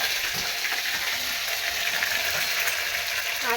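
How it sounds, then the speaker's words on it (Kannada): Cloves and peppercorns fry in hot oil with mint for chicken dum biryani, a steady close hiss of sizzling with faint crackles and a soft scrape near the end, no talking. "ಆಮೇಲೆ 4 ಲವಂಗ, ಆಮೇಲೆ ಒಂದು 5 ಮೆಣಸು ಇವನ್ನ ಎಣ್ಣೆ ಕಾದ್ಮೇಲೆ ಹಾಕೋದು"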